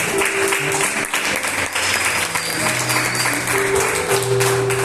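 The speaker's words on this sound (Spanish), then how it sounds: "Dale un aplauso a Kevin y Rey." A church congregation claps in a steady, sustained round of applause, with held musical tones sounding alongside throughout.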